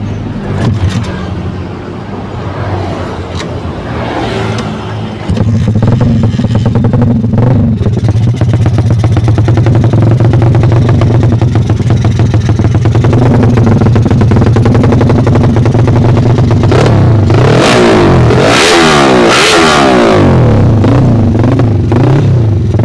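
An MX 280 cc motorcycle engine idles with decompression in use, then revs up and holds a loud, steady drone, with a few sharp throttle blips near the end, recorded close up.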